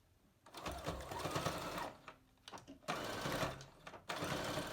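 Sewing machine stitching a two-inch casing on striped pants, with three long bursts of fast whirring separated by short pauses, close and steady.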